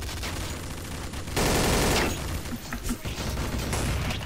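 Galil rifle fire rattles out in a Counter-Strike: Source match, a loud dense burst of rapid automatic shots amid continuous game noise, followed by a few quieter scattered shots.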